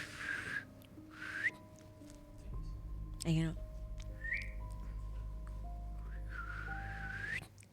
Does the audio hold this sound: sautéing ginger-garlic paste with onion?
no